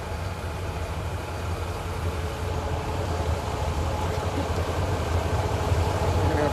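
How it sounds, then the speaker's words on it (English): A train rolls past during an extreme storm in Eastern Idaho, giving a steady low rumble that slowly grows louder across the stretch. No voices are heard. "I'm gonna stop talking for a minute while this train goes through."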